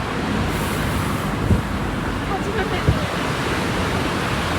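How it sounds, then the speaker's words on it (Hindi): Fast-flowing river in heavy rain in Karnaprayag, Uttarakhand, a steady broad rushing roar with no pauses, loud and close, with faint thuds now and then. "यहाँ भी पानी का फ्लो काफ़ी तेज़ है।"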